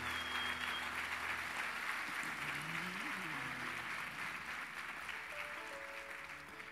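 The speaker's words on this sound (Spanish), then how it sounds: "Démosle un aplauso al Señor porque Él es bueno." A church congregation applauds during a sermon, a loud, sustained wash of clapping that carries through the whole moment, with faint tones and voices beneath.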